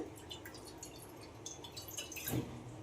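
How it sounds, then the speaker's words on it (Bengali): Water from a bowl is poured into a wok on the stove, heard as faint, close splashing and dripping that ends in a brief, slightly louder splash. "কড়ার মধ্যে দিয়ে দেব এই বাটির মাপ করে 1 বাটি জল"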